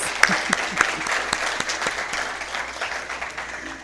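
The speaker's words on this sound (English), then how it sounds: "let's give it a round of applause" Audience applause at the launch of a woodworking apprenticeship programme, a steady round of clapping from a gathered crowd with a few louder near claps early on, fading slightly toward the end.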